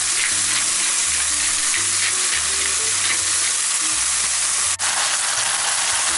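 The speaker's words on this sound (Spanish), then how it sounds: "A continuación, vamos a cocinar los champiñones." Mushrooms seasoned with salt and pepper fry in a pan with a steady, close sizzle and occasional stirring scrapes, alone without talk.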